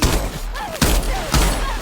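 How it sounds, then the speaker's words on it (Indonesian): Pistol gunshots in a film scene, three sharp loud bangs spaced roughly half a second apart, each with a brief ringing tail. "Iris bergerak cepat mengambilnya dan menembakkan ke arah Richard."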